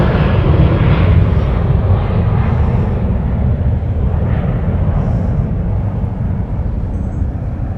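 A Southwest airliner arrives at Minneapolis–St. Paul airport, its broad, steady jet roar loud and close throughout and slowly easing off, with no voices over it.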